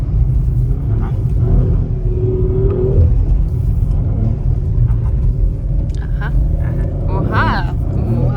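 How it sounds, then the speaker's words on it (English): An Audi RS4 B9 with all-wheel drive accelerates on snowy streets, a constant low engine rumble heard from inside the car, with people talking over it. "this car is so far incredibly fast on the streets, because the all-wheel drive just pulls it so forward"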